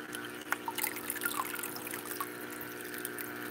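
A faint, thin trickle of water from an aquarium filter for baby puffer fish, a soft uneven dribble with small drips and splashes that runs alone.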